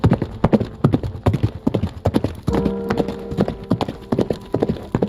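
Horse hooves clip-clop steadily at a riding pace, loud and close, with brief snorts and a whinny partway through; a lone rider crossing gloomy countryside under low, heavy clouds.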